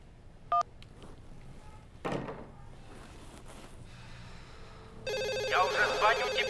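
Telephone ringing, a bright electronic warble that starts loud and continues near the end after a few faint clicks and knocks, with voices heard earlier.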